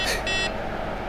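A short electronic beep sounds twice in quick succession from the falcon-wing door of a Tesla Model X, bright and clear over a low background hum.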